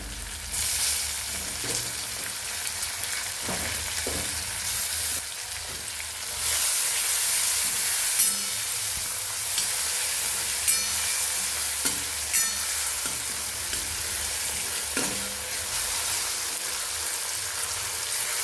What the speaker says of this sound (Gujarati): હવે આપણે આમાં કાપેલા ટમેટા નાખી દેશું અને બરાબર મિક્સ કરી લેશું